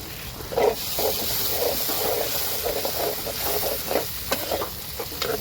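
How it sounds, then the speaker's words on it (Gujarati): Chili paste hits a hot pan with a loud, continuous sizzle, punctuated by repeated short bursts of spattering and stirring scrapes at close range. "હવે મરચાંની પેસ્ટ નાખી દઈએ આપણે"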